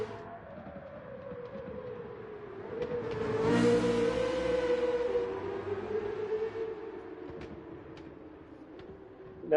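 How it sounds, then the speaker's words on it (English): A Corvette CX hypercar engine roars past in Gran Turismo 7, its pitch swelling to a loud peak then settling into a steady hum. "you can just hear that engine roaring right around the track"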